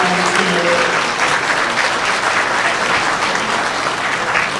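Loud audience applause for a Webelos Cub Scout pack at a town candidates' public forum in Southington, a dense, sustained wash of many hands clapping at a steady level, with a faint voice at the very start.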